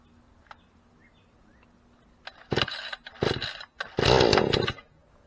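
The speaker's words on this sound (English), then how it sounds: "Got a cheap chainsaw too." A cheap chainsaw sputters to life after a quiet stretch, warming up and revving loudly in several bursts close by.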